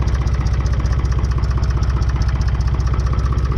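484 engine running just after an injection pump start-up with a faulty number 2 injector, a loud, close, rapidly pulsing idle with a steady knocking rhythm and no talk.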